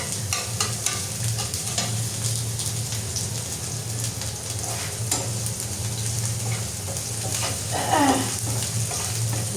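Onion and garlic frying in a pan, a dense steady sizzle with frequent stirring clicks and scrapes throughout, close and fairly loud, no voices.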